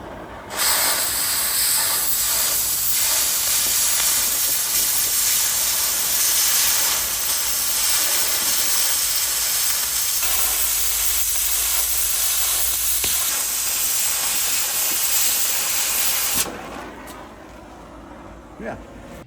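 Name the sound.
ripping sound of cutting cold rolled steel sheet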